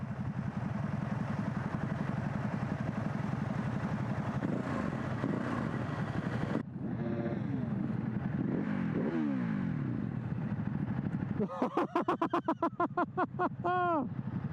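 A sport motorcycle fitted with a quick shifter idles and revs, its engine note rising and falling close by for most of the stretch, with people talking over it and a sharper burst of revving near the end.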